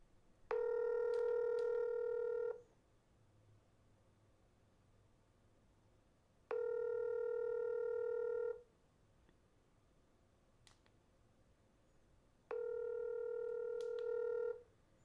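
Three long electronic phone ring tones, each about two seconds, repeat at even intervals with quiet gaps between them, clean and steady with no one speaking.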